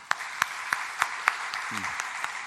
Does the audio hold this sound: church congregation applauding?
yes